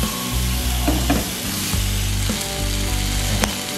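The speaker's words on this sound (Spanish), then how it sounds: "Las voy a llevar a un sartén sin nada de aceite y los voy a colocar." Smoked pork chops fry in a dry pan, a steady close sizzle with occasional sharp pops and scrapes, loud and continuous with no voices.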